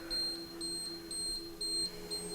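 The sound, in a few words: dishwasher beeping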